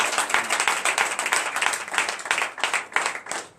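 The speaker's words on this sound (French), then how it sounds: "Donc je vous demande d'applaudir." A church congregation at a Sunday worship service in Comè, Benin, claps steadily in dense, rhythmic bursts that continue throughout, lively and full.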